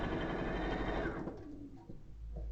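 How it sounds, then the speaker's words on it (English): A home sewing machine stitches a quilt block in a steady, close whirring run that slows and fades partway through before picking up again. "Okay, I'm going to sew now."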